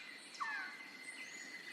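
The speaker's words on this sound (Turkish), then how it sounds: "İşte karşınızda muhteşem ketsallar." Resplendent quetzals in misty cloud forest give a faint, brief chirp that sweeps quickly upward, set against a soft, continuous hiss of forest background.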